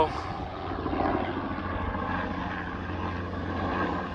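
A small radio-controlled model aircraft flies outdoors near a helicopter, its engine a faint, steady, distant drone that rises and falls gently throughout, with a low murmur of voices in the background.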